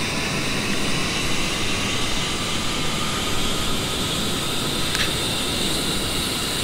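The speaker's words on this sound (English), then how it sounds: "And I'm going to start motoring the left engine." The left jet engine of an A-10C motors in the DCS flight simulator, a steady, dense roar with a high whine held evenly throughout, no talking.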